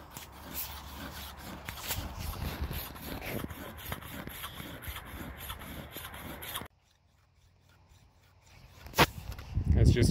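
Quick, rhythmic rasping strokes of a chainsaw round file and a flat file on a horse's hoof scrape back and forth for several seconds, then stop, leaving near silence with a faint thump.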